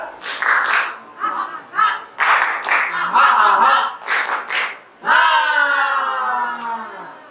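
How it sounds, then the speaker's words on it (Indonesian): Children at a Sunday school do the tepuk ceria clapping routine, bursts of rhythmic group clapping in short patterned phrases, near and loud, ending with a sustained chanted or sung vocal line. "Ayo adik-adik kita tepuk ceria terlebih dahulu."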